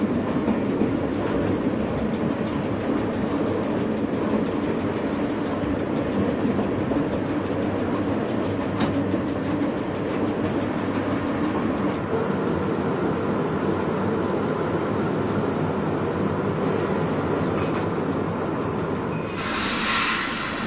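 Crocodile electric locomotive No. 3609 rolling over points into a station at Rodange in Luxembourg, a steady rumbling rail drone with rhythmic wheel clatter, brief squeals and a sharp hiss near the end.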